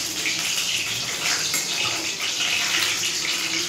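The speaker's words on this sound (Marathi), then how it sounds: "बटाटा धुवून काढ" Tap water pours steadily into a sink while potatoes are rinsed, a close continuous splashing gush with slight fluctuations and no talking.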